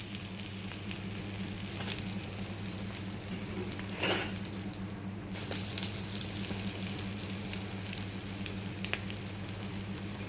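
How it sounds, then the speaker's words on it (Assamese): Eggs fry in a pan with a steady, close sizzle and crackle that runs the whole time, with a brief stir or scrape partway through and no talking. "ইয়াত ধুনীয়াকৈ কণীটো ভাজি ল'লোঁ।"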